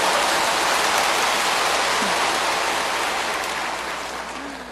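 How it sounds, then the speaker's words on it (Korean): A church congregation applauds during a sermon, a dense, sustained wash of many hands clapping at once that holds steady and then gradually fades toward the end, with no voices over it. "박수를 하려고 하면 화끈하게 해버리지."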